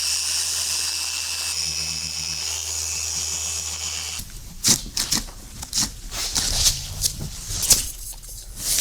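A forced action polisher touches up a scratch in car paint, first as a steady motor hum and then as uneven bursts of rubbing and buffing, close and moderately loud.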